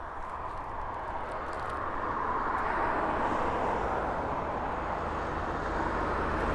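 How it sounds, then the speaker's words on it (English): Ryanair training flight aircraft at East Midlands Airport, a steady broad jet roar at moderate distance that holds level and swells slightly over the span, with no voices. "Is this the Ryanair training flight?"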